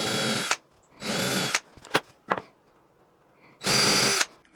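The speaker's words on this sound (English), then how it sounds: "I'm going to drill some buttonholes for this just to make it look a little more pretty." A power drill boring holes in wood in short bursts, two long runs, a few quick taps, then another run, each separated by near silence.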